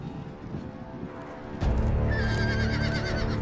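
A horse in a Game of Thrones video game lets out a loud, close whinny after a quieter stretch of background game noise, holding strong to the end of the clip.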